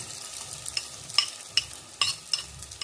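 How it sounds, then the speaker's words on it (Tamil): Omelet batter poured into hot oil for a fluffy egg omelet, giving a close, crackling fry with a handful of sharp clinks and pops over a short stretch; no voices. "இப்போ ஊற்றிக்கலாம் ஆம்லேட்டை."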